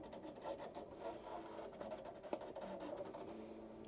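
An embroidery machine traces the outline of a design on a hat, giving a steady, moderately quiet mechanical whir with faint rubbing and ticking throughout.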